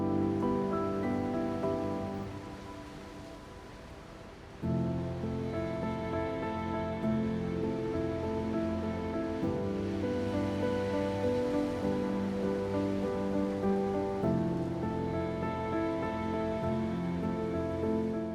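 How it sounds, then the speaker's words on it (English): Steady broadband rush of water from an Amazon rainforest waterfall cascade, a continuous loud roar that dips slightly for a moment, then holds even and unbroken, with no voices. "the sound of falling water mixes with the calls of birds and insects"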